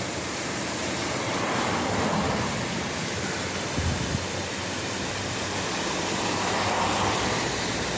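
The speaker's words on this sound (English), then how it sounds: "This is a waterfall or a river that's flowing down Boys Drive." Heavy runoff pours down Boyes Drive in Kalk Bay, Cape Town, after a storm and heavy rain, a continuous broadband rush of falling water heard close and steady throughout, with a faint wind roar mixed in.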